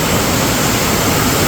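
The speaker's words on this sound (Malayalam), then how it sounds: "കനത്ത മഴയത്ത് നിറഞ്ഞൊഴുകുന്ന ഈ വെള്ളച്ചാട്ടവും" Iruppu Falls in Karnataka, swollen after heavy rain, pours down in a loud, dense, unbroken roar of rushing water that stays constant throughout.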